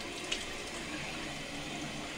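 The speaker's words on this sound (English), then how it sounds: "So I'm just gonna rinse off the top of my face." Tap water runs steadily into a bathroom sink while a man rinses his face after shaving, a soft continuous hiss with a light splash near the start.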